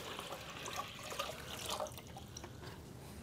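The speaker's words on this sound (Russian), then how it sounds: "Сейчас мы хотим сюда залить воды, да, ну и проверить, обманывают нас или не обманывают." Water poured onto a waterproofing coating laid over a crack in a surface, giving a steady close splashing and trickling with a few drip-like accents throughout, and no talking.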